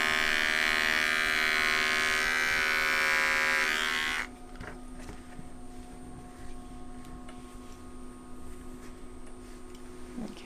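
Electric clippers shave a poodle's feet. The close, steady whine of the motor runs for about four seconds and then stops, leaving a quiet room with faint handling sounds.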